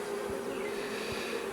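Honeybees buzz in an opened beehive nucleus colony, a close, continuous hum with a steady pitch that stays even throughout the short moment, with no talking.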